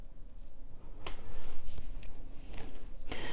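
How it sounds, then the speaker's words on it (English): Scissors snip the leftover tail of stretch cord on a beaded bracelet with chain, several sharp close clicks spaced irregularly over faint handling noise. "we can snip our excess tail"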